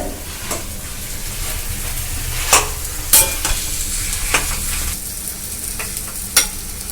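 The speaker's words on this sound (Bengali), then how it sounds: "এটাকে খালি সুন্দর করে কষে নিতে হবে" Spiced filling for radhaballabhi being sautéed in a kadai, with steady low frying sizzle under repeated sharp scrapes and taps of a spatula stirring against the pan.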